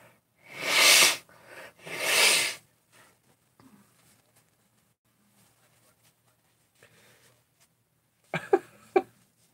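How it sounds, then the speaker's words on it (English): A person blowing their nose, two strong close honking blasts followed by quiet, then a short burst of sniffing snorts near the end. "I blow my nose."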